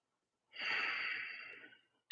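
One long deep breath as part of a breathing exercise, drawn into the left side of the chest, close and steady for about a second and a half, then fading out, with no talking.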